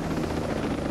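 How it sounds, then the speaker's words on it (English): A helicopter in the video game Ghost Recon Breakpoint gives a steady, close, droning rotor thrum with a pulsing beat, heard alone without talk. "Alright, I've got a helicopter"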